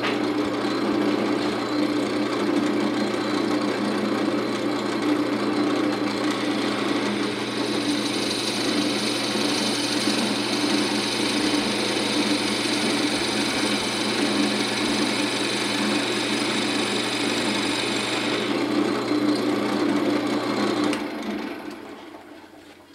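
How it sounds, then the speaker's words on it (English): A drill boring a shallow hole, about three-quarters of an inch deep, to seat a four-prong spur center, a steady close motor whine held for around twenty seconds before winding down. "all we're going to do is drill down just enough to get this 4-prong where we can epoxy it in there"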